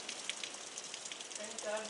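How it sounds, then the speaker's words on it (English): Heavy rain pours down on a mountaintop farm, a steady dense hiss of drops hitting surfaces that fills the short stretch without a break. "unbelievable amount of rain we've had."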